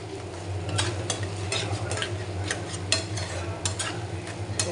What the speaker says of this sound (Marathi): सगळ्या मसाल्यामध्ये व्यवस्थित फ्राय करून घ्यायचा सगळ्या मसाल्यांना